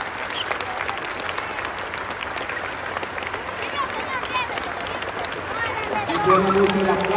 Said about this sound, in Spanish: Aquí suena mucho el aplauso de los niños, el aplauso de las niñas.